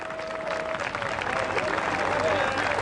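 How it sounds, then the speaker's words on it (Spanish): A church congregation at an outdoor park event claps together in praise, a dense, steady round of applause with a voice over it. "Y le damos un aplauso grande de alabanza al Señor."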